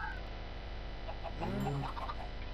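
Chickens in a video game give a short burst of clucking midway through, heard over a steady background hum.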